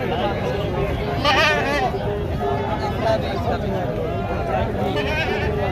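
Goats bleat repeatedly with wavering cries at the Muhammad Pur Bakra Mandi livestock market, close and loud amid a busy crowd, with people talking throughout.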